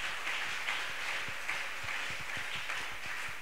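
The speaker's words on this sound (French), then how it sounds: "Acclamons le Seigneur." Church congregation applauding, a steady wash of many hands clapping at moderate distance with no talk over it.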